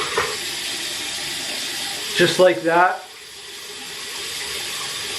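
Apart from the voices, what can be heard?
warm tap water soaking a shaving brush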